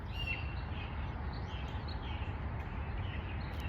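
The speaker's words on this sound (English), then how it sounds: "Now you can hear the birds" Birds chirp outdoors during a walk, faint high calls scattered over steady low broadband background noise throughout.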